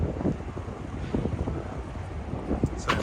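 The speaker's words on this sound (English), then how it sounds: "things are getting a bit windy here, I feel" Steady gusty wind blows between tall buildings in Marunouchi, Tokyo, buffeting the microphone with continuous low rumbling across the whole stretch.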